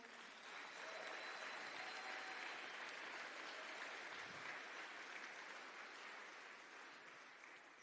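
Audience at an outdoor upper school graduation ceremony applauds in a long, even burst of clapping, dense and steady throughout, fading slightly toward the end.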